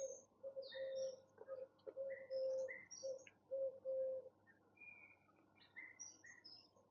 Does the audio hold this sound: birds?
yes